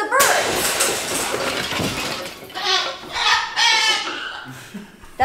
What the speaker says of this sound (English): She is our umbrella cockatoo.